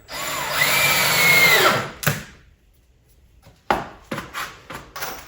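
Power drill driving a screw into wood while building a swarm trap, a rising high whine for about two seconds, then a pause and several sharp knocks and clatters, close and loud.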